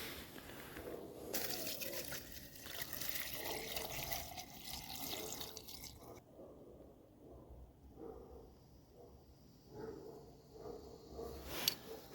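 Tea pours steadily from a kettle outdoors at a campsite for several seconds, then thins to a light trickle and a few drips, close by with no talking.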